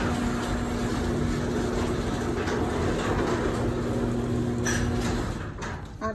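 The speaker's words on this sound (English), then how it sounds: "let me close the garage door so I don't forget about that" A residential garage door closing, a loud continuous mechanical rumble and grinding hum that runs steadily, then eases off with a few knocks near the end, with no talking.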